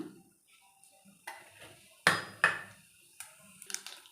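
Mustard seeds spluttering in hot oil in a pan while making a Tamil manathakkali kara kuzhambu: scattered sharp pops and crackles, two louder bursts standing out against an otherwise quiet background.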